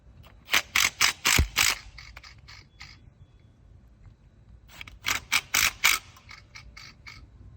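A ratchet tightens valve cover bolts on a Ford 302 V8 in a Fox body 5.0 Mustang, with two close bursts of quick clicking strokes separated by a quieter pause.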